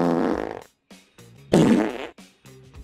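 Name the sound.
fart sound effect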